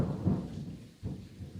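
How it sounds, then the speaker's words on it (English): Thunder rumbles low and deep through pouring rain with the windows open, swelling, dipping briefly, then rolling again at a moderate distance with no voices. "It's Halloweeny around here with pouring rain and thunder and lightning"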